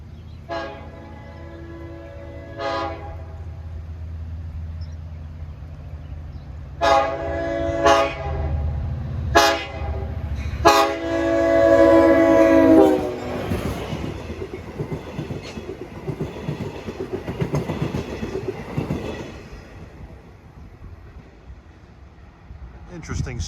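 DM30AC locomotive 508 leading a train through the Grant Avenue crossing in Islip, sounding several loud horn blasts before a rumbling, clattering pass that fades into a steady roll of wheels on rail.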